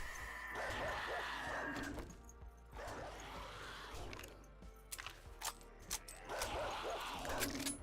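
A dog in a video game yips and whimpers in short bursts, mixed with whooshes and faint clanking mechanisms, at moderate volume with gaps between the calls.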